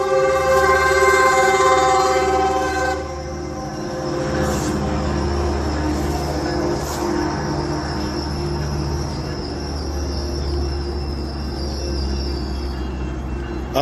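A train approaching along the rail line, its low rumble and clatter of railcars steady and fairly loud, with rail squeal, horn-like tones and insects chirping over the top, no talking.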